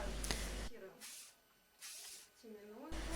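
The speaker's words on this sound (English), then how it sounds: "Spray the front part with hairspray" Hairspray is sprayed onto the front of a braided updo in a few short, close hissing bursts, with a voice speaking in the quieter gaps between them.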